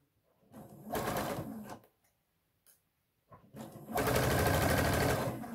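A sewing machine stitches a pocket in two close bursts, a short run followed by a pause with faint handling noises, then a longer, louder steady whirring run of stitches.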